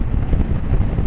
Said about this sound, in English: With the slightly upright handlebars on this bike, you do get perhaps a bit more buffeting